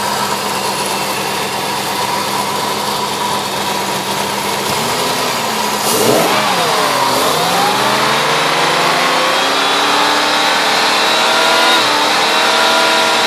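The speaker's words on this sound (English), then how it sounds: "Little Northstar V8." A 1997 Cadillac Northstar 4.6 V8 engine idles loudly and close, then revs up sharply and winds back down once before settling into a steady, slightly raised hum.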